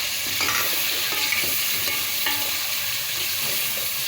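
Tomatoes and crushed red chili fry in hot oil for a potato rice dish, giving a steady close sizzle with soft stirring scrapes and small pops throughout, no voices.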